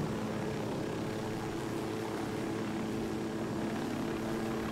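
A helicopter in the game Ghost Recon Wildlands gives a steady, loud rotor and engine drone that fills the whole stretch without letting up.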